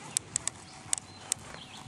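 A mare jogging at an even, steady pace, her hooves giving several sharp, distinct clip-clops spaced through the moment over faint background noise.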